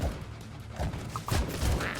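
AK rifle gunfire in the cartoonish shooter AK-xolotl comes as short bursts of sharp, punchy shots mixed with thuds and impacts, at moderate loudness, with no talk.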